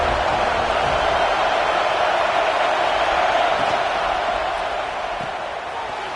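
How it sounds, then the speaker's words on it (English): Dense, steady roar of a stadium crowd in a college football video game, Arkansas Razorbacks against FSU at kickoff, a loud, unbroken wash of noise easing slightly toward the end. "This crowd ready to make its presence known."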